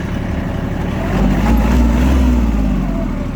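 A Kubota GL220 mini tractor engine runs with a steady low diesel drone, swelling slightly in the middle as it works, close and continuous throughout.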